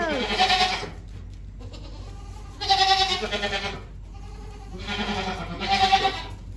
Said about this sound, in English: look at my goat